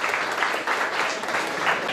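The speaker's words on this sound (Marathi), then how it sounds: "एकदा सर्वांनी जोरदार त्यांच्यासाठी टाळ्या वाजवायच्या" A crowd at a carrom coaching camp claps together in sustained, dense applause, fairly close and even in loudness over the short stretch, with no talking.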